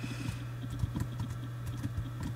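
Quick keystrokes on a computer keyboard during a gaming session, a steady patter of light clicks over a constant low electrical hum, close and moderately quiet.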